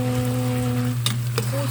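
Peanuts are frying in a pan while being stirred, with a continuous sizzle under a low steady hum and a couple of brief scraping clinks toward the end.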